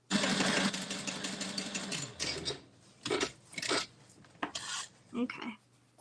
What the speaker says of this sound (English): You're still sewing.